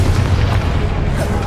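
A Confringo fire spell erupts in Hogwarts Legacy, a loud, deep booming blast with a rumbling low end that fills the short moment, heavy and close.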